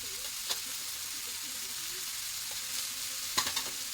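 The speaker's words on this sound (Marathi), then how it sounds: "परत एकदा चांगलं परतवून घेऊ मसाले सगळे एकत्र करू" Dry prawn curry masala, made with kitchen king masala for a dry karandi gravy, stirred and fried in a pan: a steady sizzle with a few scraping strokes, fairly quiet and without talk.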